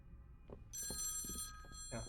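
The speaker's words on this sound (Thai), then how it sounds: "เสียงโทรศัพท์ดังอีก" A telephone rings in the horror survival video game Home Sweet Home Survive, a bright electronic trill entering partway through over faint game ambience and soft thuds, fairly quiet overall.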